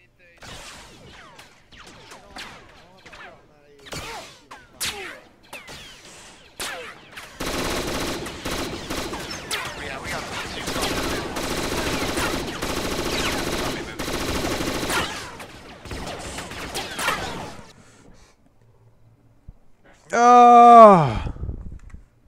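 Gunfire erupts in the military video game Arma 3: scattered single shots, then a long dense stretch of sustained automatic fire and volleys, with a few later pops and a closing burst, mostly without speech.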